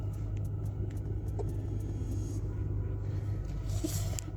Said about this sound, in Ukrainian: Ставимо пневму на максимальний рівень. Вона зараз піднімається, ви можете чути звук.